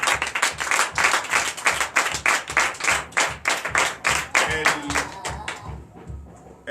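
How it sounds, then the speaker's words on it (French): Rhythmic clapping from a church congregation at a Sunday service in Comè, Benin, with hands beating in a steady pulse that fades out at the end, a voice briefly audible underneath. "dont je vous demande d'applaudir"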